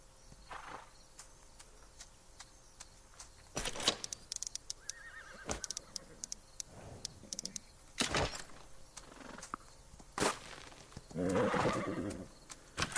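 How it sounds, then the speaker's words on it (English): A horse in the farming game Farm Together whinnies and neighs in several separate calls, with soft hoof clip-clops and faint ambient insect sounds between them, fairly quiet overall with no talking. "Right, the horse."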